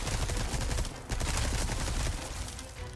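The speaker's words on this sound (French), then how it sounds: "Vous lui tirez à fond dans la tête, tout ce que vous avez" Rapid bursts of gunfire from the video game Resident Evil 4 Remake, Separate Ways DLC, a dense crackling fusillade of shots with a brief pause midway, fairly quiet overall.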